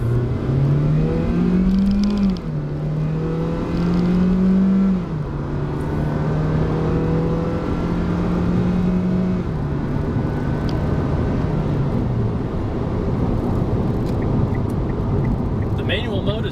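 A 2012 Kia Rio SX hatchback accelerates in manual shift mode, its engine note rising and dropping through several quick gear changes over steady road noise, heard from inside the cabin without talk.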